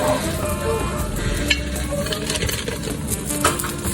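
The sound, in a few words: chicken fajita meat cooking over a high flame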